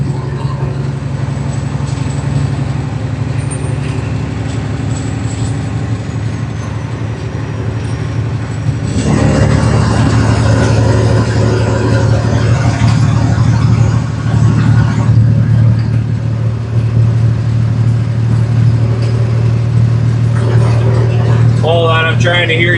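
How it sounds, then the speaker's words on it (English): A loaded semi truck's engine drones loudly and steadily from the driver's seat while under way, a constant heavy rumble that swells in intensity partway through. "this truck is loud as hell"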